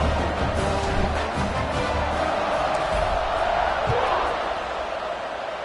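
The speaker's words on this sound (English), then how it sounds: "this crowd is feeling themselves after that last drive" A football stadium crowd roars and cheers after a scoring drive, a broad, distant wash of voices holding steady and fading slightly toward the end.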